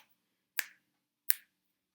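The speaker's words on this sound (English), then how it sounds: "I usually snap my fingers." Two crisp finger snaps, close to the mic and about three quarters of a second apart, ring out sharply against otherwise near-total silence.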